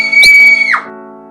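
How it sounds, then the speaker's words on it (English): Red Riding Hood lets out a single shrill scream at the wolf, a loud sustained high cry lasting about half a second that slides downward as it fades, followed by lingering tonal background music. "Red Riding Hood screamed."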